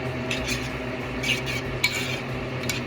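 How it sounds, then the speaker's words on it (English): A herbal salve mixture with linden flower stirred in a pot, with soft scraping and a few light utensil clinks against the container over a low steady background hum. "Give it a little stir."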